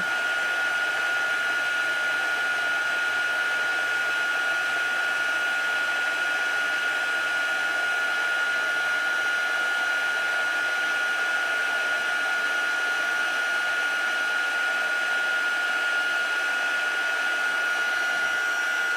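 A heat tool blows steadily for a long stretch while melting Stampin' Up! embossing powder, a constant close whirring hiss with no pauses and no talk.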